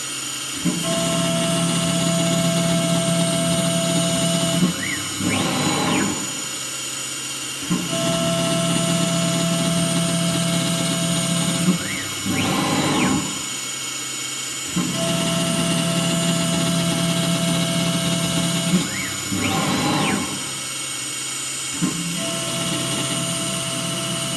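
A Langmuir Systems MR-1 CNC mill cuts 4140 steel with a loud steady whine that pauses briefly at regular intervals, each gap followed by a short rising tone before the cut resumes.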